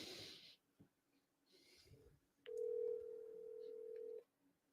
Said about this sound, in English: let's call the wholesaler